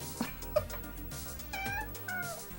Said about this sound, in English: now that we've got a freaking cat here